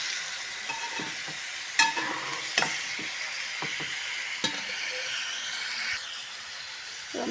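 Masala-coated pieces fry in a pan with a steady close sizzle while being turned and stirred, with sharp scrapes and clinks from the utensil against the pan.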